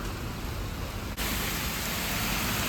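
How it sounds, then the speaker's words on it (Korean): Heavy rain pours down on a street outside a ramen shop, a dense, loud, constant hiss that briefly dips and then returns even stronger and fuller. "비가 정말 너무나 많이 오고 있습니다"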